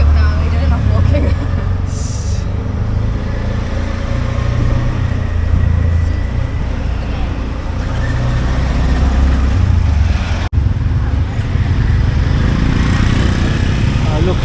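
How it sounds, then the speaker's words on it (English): A tuk-tuk rides through the streets of Phnom Penh, Cambodia, its small engine droning steadily with traffic rumble and hot-street noise, while people talk over it. "Oh, let's take a tuk-tuk now."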